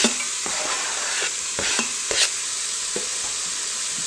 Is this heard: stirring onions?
yes